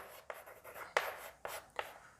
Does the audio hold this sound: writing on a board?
yes